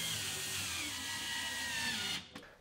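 A power driver whines steadily while reinstalling outer Phillips screws on a Samsung refrigerator during a defrost sensor repair, a sustained close motor hum that cuts off abruptly near the end.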